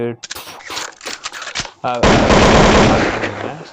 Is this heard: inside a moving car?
no